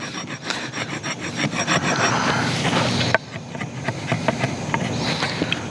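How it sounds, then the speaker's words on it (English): An Ontario SP10 Marine Raider Bowie knife scrapes a stick of fatwood, producing steady close-up rasping strokes in a rapid repeating rhythm, with one sharp catch partway through. "But let's just see if it'll scrape some fat wood."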